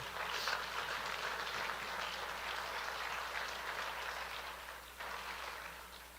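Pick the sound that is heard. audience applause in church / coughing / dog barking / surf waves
audience applause in church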